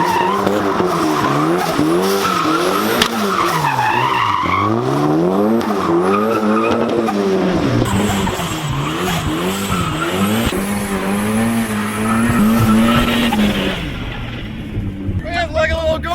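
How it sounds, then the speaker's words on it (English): A turbocharged car's engine revs hard and rises and falls in pitch while tires skid and squeal in a driveway, loud and close, with voices breaking in at times. "Ripping it around in our driveway, me and Brian, that was a blast."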